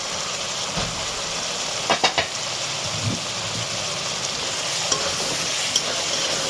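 Masala and tomato frying and being stirred in a pan for chicken kosha: a steady close sizzle with a few sharp scraping clicks of the spoon, no one talking.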